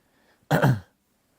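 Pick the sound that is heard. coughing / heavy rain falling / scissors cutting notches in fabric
coughing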